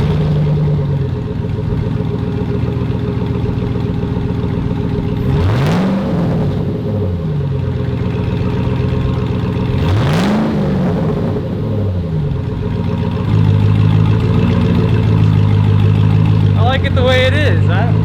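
Chevrolet Silverado 2007–2013 V8 with no muffler on the exhaust idles with a loud, deep rumble, then revs hard twice with rising and falling roars before settling back to a heavier idle.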